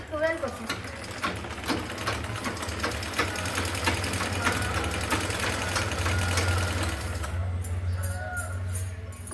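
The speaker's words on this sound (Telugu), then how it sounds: "మిషన్ రిపేర్ చేసినాక ఫ్రీగా తిరుగుతుంది కదా ఇది" A freshly repaired sewing machine running smoothly, a steady fast mechanical whir and ticking rhythm that continues throughout, close by, with the motor easing off near the end.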